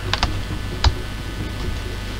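A few sharp computer keyboard key presses, isolated clicks spaced irregularly, made while playing Crash Bandicoot on the PS1, close and fairly loud over a steady background hum.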